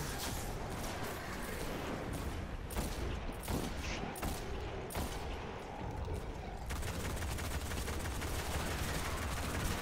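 Video game gunfire crackles in dense, continuous bursts of rapid shots, loud and unbroken through the whole stretch.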